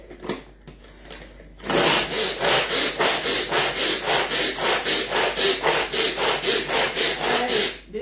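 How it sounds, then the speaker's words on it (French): An apple is finely chopped in a Maxi Tornado pull-cord hand chopper, giving a loud, fast, rhythmic run of whirring, rasping strokes that starts after a brief pause and continues steadily to the end. "Allez, on va hacher ça finement."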